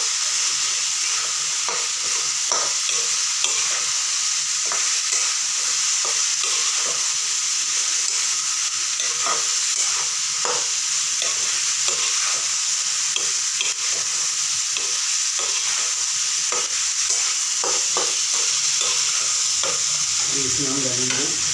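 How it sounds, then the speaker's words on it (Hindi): Oil-fried cauliflower florets and peas are stirred in a hot masala pan, a dense unbroken sizzle and hiss running throughout with soft scraping spoon strokes, near and steady, no speech. "और इसके बाद डालेंगे हम फ्लावर और बटाना जो तेल में फ्राई करके लिया हुआ था। इसको हम अच्छी तरह से हिलाएंगे।"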